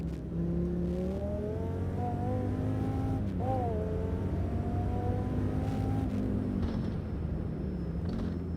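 A race car engine roars in the sim racing game Automobilista 2 on the Nordschleife, in a super or hyper car. A steady loud drone climbs and dips through the gears, close to the listener.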